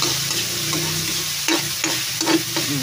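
Egg frying with onions in a pan, a loud steady sizzle close up, punctuated by three or four quick spatula scrapes in the final second and a half, with no voices.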